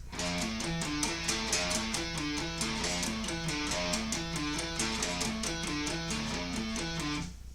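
A simple guitar riff for a song, played alone and up close as a steady run of repeating picked notes in a regular rhythm for several seconds, then stopping.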